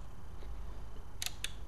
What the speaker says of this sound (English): you can use the shutter button here